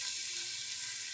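Chopped garlic sizzles in about three tablespoons of hot oil in a pan, a steady bright hiss with no talk over it.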